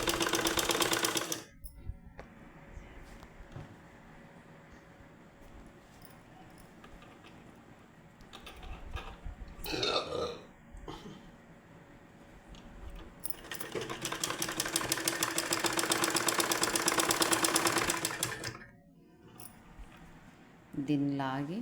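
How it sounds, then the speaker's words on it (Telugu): An electric sewing machine fitted with a double foot stitches piping, with bursts of fast, even whirring and clattering separated by pauses while someone talks nearby. "నేను పాదం మార్చలేదండి, డబుల్ పాదంతో స్టిచ్ చేస్తున్నాం."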